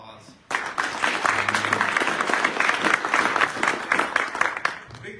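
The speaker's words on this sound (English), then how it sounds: "Let's give him another round of applause." Applause from the audience at an Air Force retirement ceremony, clapping that bursts in after a brief quiet moment, holds steady with some crowd murmur and talk, then tapers off.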